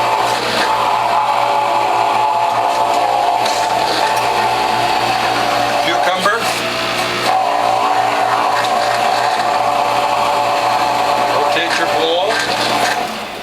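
A Whole Health Foundation juicer grinds zucchini with a loud, steady mechanical whir that runs unbroken throughout, with brief shifts in pitch as pieces feed through.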